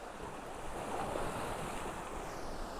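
Ocean waves rolling in at Playa Blanca, Lanzarote, heard as a steady, close, broadband surf roar with wind buffeting the microphone and no talking.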